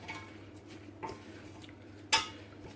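Thai chicken being stirred in a pot, faint scraping of a utensil against metal with a few soft clinks and one sharper knock, quiet and close with a low kitchen hum underneath.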